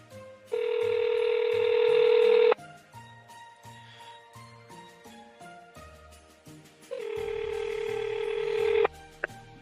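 A telephone call rings out in two long electronic tones, each about two seconds, separated by a quieter stretch of low background sounds, clear and fairly loud.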